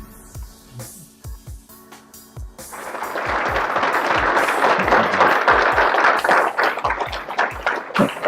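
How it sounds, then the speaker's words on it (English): Audience applause at a youth awards ceremony, beginning with a few scattered claps and swelling after a couple of seconds into loud, sustained clapping from a large crowd that continues to the end. "you've just finished your justified applause for Liam's film there"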